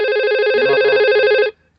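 A simulated telephone in Cisco Packet Tracer VoIP rings with a steady electronic warbling tone for about a second and a half, loud and close, then cuts off into silence.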